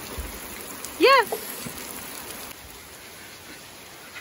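Rain falls steadily on the ground outdoors on a farm, a soft even hiss throughout, briefly interrupted early by a short spoken word.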